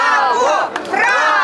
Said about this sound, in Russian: На площади Рембрандта украинцев встречают овациями местные жители и десятки телекамер.